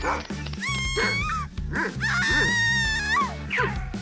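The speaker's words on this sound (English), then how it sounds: "A dog! Help! I'm scared of dogs!" A dog in an animated story gives a few short yipping barks and whimpers at close range, mixed with high voices and background music.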